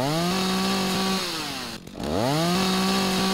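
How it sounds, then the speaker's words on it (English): Chainsaw cutting wood in the survival game Rising World: a loud, close engine whine with strong harmonics that drops and dips briefly mid-cut before revving back up to full pitch, no talking. "With a chainsaw, you just hold down left click, and bam, it's out."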